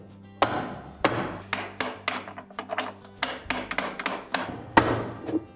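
A spanner wrench tightens a part on the inner basket of a GE washer, giving a series of about ten sharp, close knocks at an uneven rhythm.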